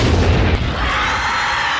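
A heavy, booming burst of firecracker-type explosives from the film Tremors, loud and close, with a deep rumbling blast that settles into a sustained roaring hiss before cutting off.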